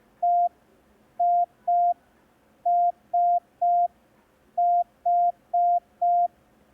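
Morse code practice tones for the letters E, I, S and H: ten short steady beeps at one pitch, sent in three quick groups with clean gaps between them, alone with no talking.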